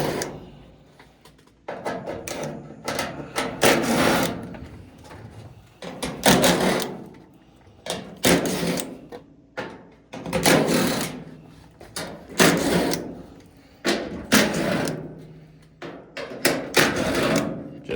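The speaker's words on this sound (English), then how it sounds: "grab our 1/4-inch bit, and we're gonna remove all the 1/4-inch screws around the back panel" Power drill driving out quarter-inch screws from the back panel of an Amana dryer, in repeated loud bursts of whirring a second or two long, separated by brief pauses, close up.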